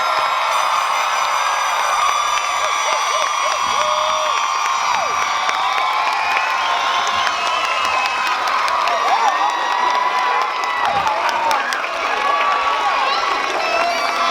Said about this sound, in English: give every single one of the graduates a big round of applause